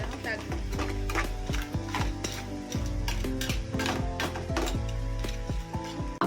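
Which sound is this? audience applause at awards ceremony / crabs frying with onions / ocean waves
crabs frying with onions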